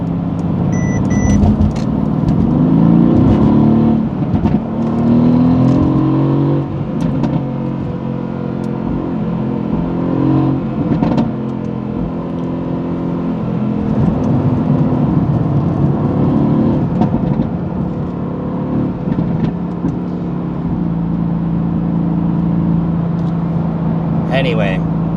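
A Porsche drives and accelerates from inside the cabin, with a loud, continuous engine rumble whose pitch rises and falls through gear changes while someone talks over it almost the whole time.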